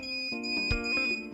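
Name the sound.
beep function of PET619 electronic dog training collar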